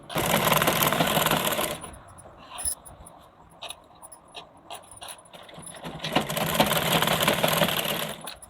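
A sewing machine runs a double line of stitching on a blouse collar: a close, steady whirring burst, a quieter stretch of handling clicks and rustles, then a second sustained run.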